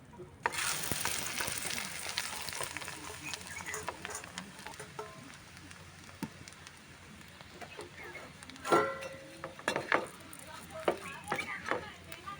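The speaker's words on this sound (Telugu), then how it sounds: "ఇదే నెయ్యిలోకి అటుకులు వేసుకుని వేపుకుందాం" Flattened rice (poha) fries in ghee with a loud, close crackling sizzle, punctuated by scraping and clinking of stirring, while a voice talks over it.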